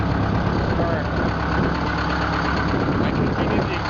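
Detroit Diesel 8V71 two-stroke V8 diesel idling with straight-piped exhaust after an exhaust leak fix, a steady loud rumbling drone with a rough knocking texture throughout, close and continuous with no talk.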